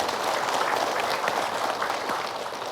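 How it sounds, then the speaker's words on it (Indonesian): Audience applause during the Siraman Qolbu religious talk program, an even, continuous patter of many hands clapping, fairly close and steady for the whole stretch, with no voices on top. "Boleh tepuk tangan dulu untuk semuanya."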